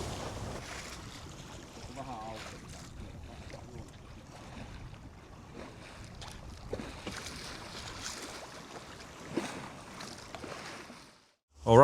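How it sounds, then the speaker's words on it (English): Wind and water rushing steadily around a sailboat under sail with no engine running, a continuous outdoor wash of air and waves at moderate level throughout. "because this is a sailboat, no engine just yet."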